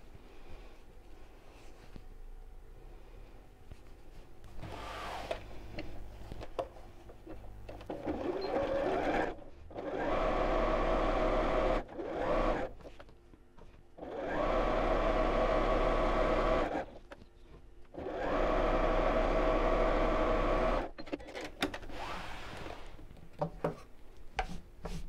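A sewing machine stitches around the edges of a disappearing four patch cushion cover in several bursts, each a loud steady whirring run of several seconds, separated by brief pauses and quieter handling sounds.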